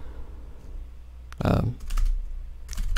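Computer keyboard keys click in a few quick bursts at close range over a quiet background hum.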